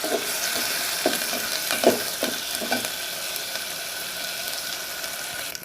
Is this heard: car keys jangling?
no